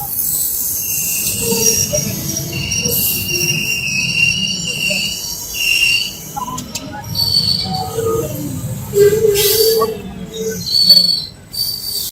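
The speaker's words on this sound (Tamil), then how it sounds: "நம்ம பேரலா அரக்கோணம் கிராஸ் பண்றது எம்ஜிஆர் சென்ட்ரல் திருவனந்தபுரம் எக்ஸ்பிரஸ்ங்க." The MGR Chennai Central–Thiruvananthapuram Express passes at Arakkonam station. Its wheels squeal in sustained high shrieks over a rolling rumble of rail cars, with surges and fades as the train goes by nearby.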